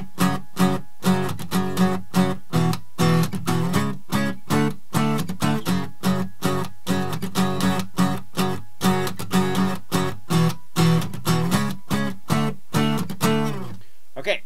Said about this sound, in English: now the strumming pattern is gonna sound like this.